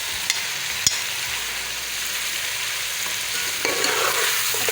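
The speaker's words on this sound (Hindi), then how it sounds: "अच्छी तरह से इनको मिक्स कर लेंगे।" Spices and chili powder being stirred into biryani masala in a sizzling pan, a steady scraping and frying hiss that runs alone without any voices, with a couple of sharp clicks near the start.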